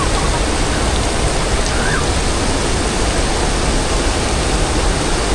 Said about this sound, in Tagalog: Umuulan lang.